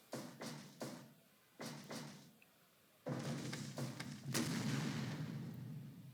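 Several explosions in the Fire Pro Wrestling video game come as short, booming bursts, first a few separate blasts and then a longer, louder rumbling stretch, all fairly faint with no talk over them.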